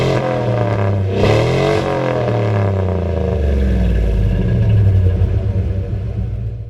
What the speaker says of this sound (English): When you get on it, you can definitely tell it's got a V8 in it.